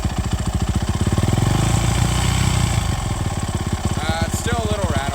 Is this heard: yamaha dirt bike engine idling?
yes